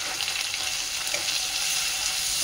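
Ginger paste, chopped green chili and turmeric fry in hot oil, a close, continuous sizzle with soft stirring scrapes running throughout.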